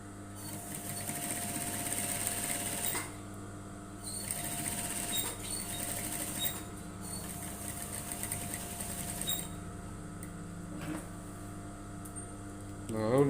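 A sewing machine stitches along the basting line of a blazer pocket flap, its motor humming in steady runs broken by short pauses, close by and fairly quiet.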